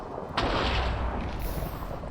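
A Minecraft lightning strike breaks out as a sharp thunder crack followed by a steady, broad rumble that lasts through the rest of the moment, moderately loud with a hiss rising near the end.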